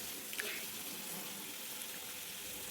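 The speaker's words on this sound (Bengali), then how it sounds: "এবার দিয়ে দেবো পরিমাণ মতো জল, যাতে সবজিটা সেদ্ধ হয়ে আসবে" Water pours into a pan of vegetable curry with mustard paste and cauliflower stems, a steady soft rushing splash with a bubbling simmer, heard briefly at moderate distance.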